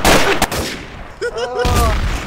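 Gunshots in Garry's Mod Trouble in Terrorist Town: a quick volley of loud, sharp shots, with a short voice exclamation in between.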